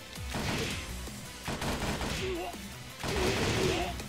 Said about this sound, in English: I can raise a gun and just shoot?